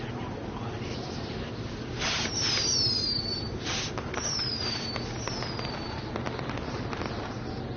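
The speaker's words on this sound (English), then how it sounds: "Are those fireworks?" Fireworks in the WWE 2K20 video game, a run of whistling rockets and crackling bursts over a steady game background hum, with no talk over them.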